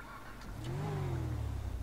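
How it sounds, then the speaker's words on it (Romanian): A car engine in GTA 5 revs up steadily, a mid-pitched droning roar rising in pitch and loudness, heard up close with no talking. "Motorul."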